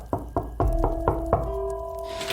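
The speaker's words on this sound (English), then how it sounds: "she heard a faint knock on the door" A knock-on-door sound effect used in a Halloween story: about six sharp, evenly spaced knocks on a wooden door, close and distinct, followed by a lingering tonal ring.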